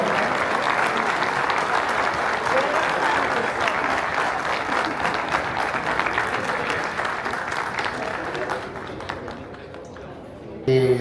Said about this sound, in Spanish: Un fuerte aplauso para la ministra del Cambio.